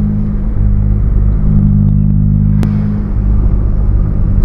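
A Nissan Sentra B14 idles quietly with the air conditioning switched on, a steady low engine hum and rumble with a faint whir, recorded close and unbroken, with one brief sharp click partway through.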